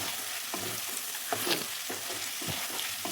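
Potato, peas and paneer curry masala sautéing in oil gives a continuous close sizzle, broken by the rhythmic scrape and clatter of a spatula stirring the pan every half second or so.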